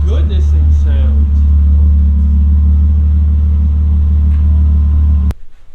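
A BMW E30 engine idles close by with a steady, loud low rumble that holds for about five seconds before cutting off abruptly; a brief voice is heard at the start.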